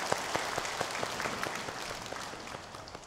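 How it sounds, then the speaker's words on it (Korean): A church congregation applauds together after a choir's hymn during a Korean service, a steady dense wash of clapping that holds evenly throughout without any voices above it. "하나님께 영광의 박수 올려드리겠습니다"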